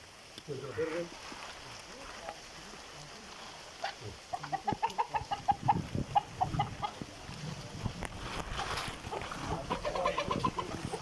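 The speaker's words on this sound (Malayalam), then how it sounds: "ആ കോഴിനെ നോട്ടിട്ടാ" Chickens cluck in quick, bright bursts in a house yard in Thrissur where a python was caught from a rabbit cage. The clucks come in clustered runs under people talking and general background noise.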